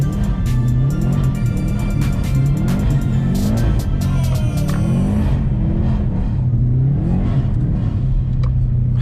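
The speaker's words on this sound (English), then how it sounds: "How do you beat the sound of a damn Subaru?" A Subaru STi engine revs hard while snow drifting on all-season tires, loud and close, its pitch climbing and falling in repeated surges with a rattly, turbo-like whir over a steady rumble.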